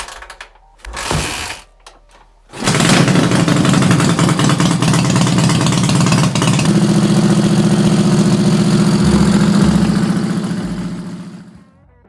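A Soviet chopper motorcycle engine running without a battery, fitted with a Dnepr coil, a scooter module and a MISC generator. It sputters briefly, catches and then runs loud and steady close up, with a rough mechanical clatter, and the revs shift partway through before it fades out.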